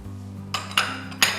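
Whole coriander seeds, fennel and cumin tumble into a dry pan for roasting, making three short, bright clinks and rattles over a low steady hum, close and fairly quiet.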